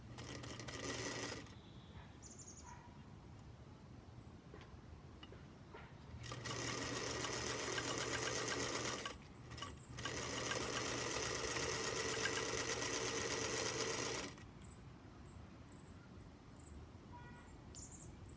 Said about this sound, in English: Oiled my sewing machine this week. Wow, what a difference.